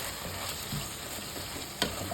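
Mutton fries in oil while being stirred, a soft, steady sizzle with a sharp utensil clank near the end.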